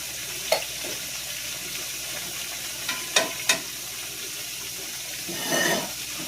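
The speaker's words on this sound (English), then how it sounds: "I've got another one frying there." A soft, steady sizzle of steak frying in a pan, with a few clinks and taps of utensils against it.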